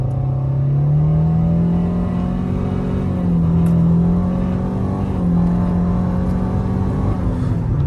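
A 2013 Nissan Altima engine drones loudly and steadily from inside the cabin, its pitch rising and easing slightly as the car pulls hard along a 60 mph road, with no transmission whine.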